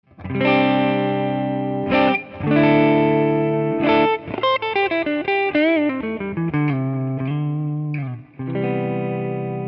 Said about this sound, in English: So let's go ahead and we'll start on the neck pickup,